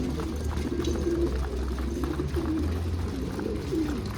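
Pigeons cooing in soft, repeated low coos that come in rounded bursts over a steady background hum, fairly close and with no one speaking.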